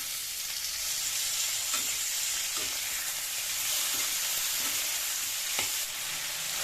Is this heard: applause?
no